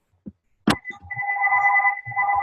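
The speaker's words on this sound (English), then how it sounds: "would somebody mute your line if your phone is ringing?" A phone rings on a conference call about heart health, a steady electronic ring running for about two seconds after a sharp knock, with faint background noises underneath.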